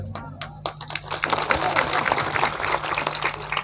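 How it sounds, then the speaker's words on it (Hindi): A crowd claps at an outdoor Hindu religious fair with Ram Katha recitation. The applause is dense and steady, with a voice speaking over it. "और जोरदार ताली बजाओ, और जोरदार ताली बजाओ सब लोग"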